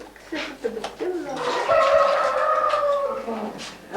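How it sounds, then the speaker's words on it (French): A rooster crows loudly and close by in a rural family setting, a drawn-out call rising over light background noise, preceded by a few short clucks and clicks. "Un brin de coq, il mange par terre."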